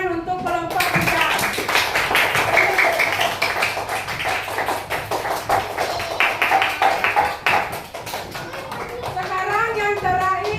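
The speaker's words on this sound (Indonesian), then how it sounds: "beri tepuk tangan untuk kelompok hujan" Children clap for a classmate group in a classroom activity, a burst of loose, uneven hand claps running several seconds with kids' voices chattering over and around it before the clapping trails off.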